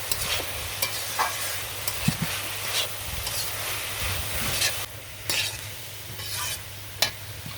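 Banana flower fries in a pan with salt and turmeric, a continuous close sizzle broken by scraping stirs and occasional spatula knocks, low hum underneath, nobody speaking.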